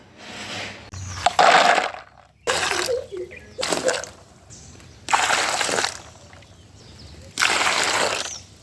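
Beans are washed and soaked in water, making about five separate bursts of splashing and sloshing close by, each lasting around a second, with short quiet pauses between them.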